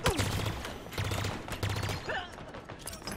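Rapid bursts of energy-weapon fire from a plasma carbine in Halo Infinite, in repeated volleys alongside other game effects, fairly loud and close.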